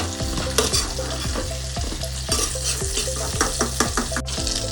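Prawns sizzle loudly in hot oil in a pan, with a continuous close frying crackle and frequent metal utensil clinks and scrapes as they are lifted out one by one, no voices.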